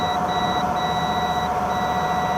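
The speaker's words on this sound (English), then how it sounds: "what you're listening for is a beep if your meter is capable of that" A multimeter's continuity tester beeps while probing a Dometic RV water heater, giving a steady high tone that cuts out briefly twice, over a constant background hum with no voices.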